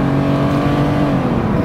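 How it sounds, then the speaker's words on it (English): A 1989 Mercedes-Benz W124 300 with its six-cylinder engine wound out hard, a loud, steady, close-up drone that climbs in pitch as the revs rise, with no voices over it. "You really wind out that six. And it moves, man."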